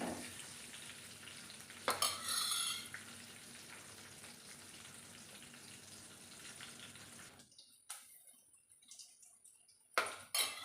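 Green chillies frying in a pan for amaranth (thotakura) chutney: a steady sizzle with stirring and occasional clinks of a utensil against the pan. Near the end the sizzle drops out, leaving a few brief knocks and scrapes.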